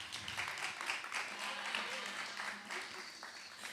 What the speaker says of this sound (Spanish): Aplaudan a Camilo, que lo dijo bien hoy.